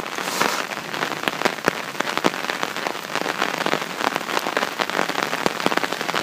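Steady rain pattering on and around a Kelly Kettle outdoors, a dense hiss of drops with frequent sharper close taps striking the metal, no voices.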